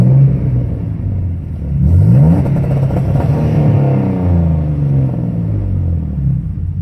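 Twin-turbo V6 in a 2011 Mustang held on two-step launch control, a loud, close, rumbling rev that climbs and stays sustained with crackling, popping texture throughout, no talking.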